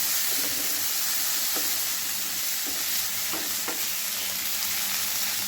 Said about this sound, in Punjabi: ਇਹਦੇ ਵਿੱਚ ਪਾਵਾਂਗੇ ਜੀ ਕੱਟਿਆ ਹੋਇਆ ਛੋਟਾ ਜਿਹਾ ਇੱਕ ਟਮਾਟਰ ਇਹਨੂੰ ਹਲਕਾ ਜਿਹਾ ਭੁੰਨ ਲਾਂਗੇ ਜੀ